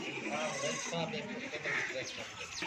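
Dairy goats with kids in a crowded livestock pen bleating, continuous overlapping bleats mixed with general noise and the bustle of many animals close by.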